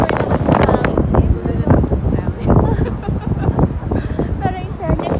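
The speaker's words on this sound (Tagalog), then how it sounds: "super lakas na hangin" Strong wind buffets the microphone on the Great Ocean Road coast, a constant loud rumbling roar throughout, with people talking over it.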